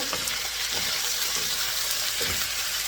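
Ginger and garlic stirred and fried in a pan for rainbow beef, a loud steady hiss of hot oil with intermittent scraping stirs, close, no talking.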